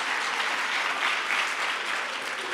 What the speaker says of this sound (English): Clap hands for Prof.